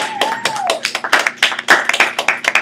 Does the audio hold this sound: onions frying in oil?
no